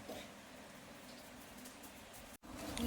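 Rain falls with a faint, even patter that holds steady throughout, apart from a momentary dropout near the end.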